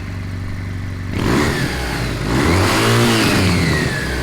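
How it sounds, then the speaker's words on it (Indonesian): A motorcycle exhaust starts up and revs hard, the engine note rising and falling loudly through a couple of throttle blips. "Sekarang kita mau mendengar suara dari knalpotnya"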